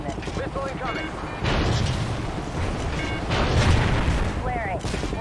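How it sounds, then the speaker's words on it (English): Missile explosions in the shooter game Call of Duty Ghosts come as heavy, rumbling booms over a continuous roar of battle, with radio chatter and short voiced callouts cutting in throughout. "Incoming missile, hang on!"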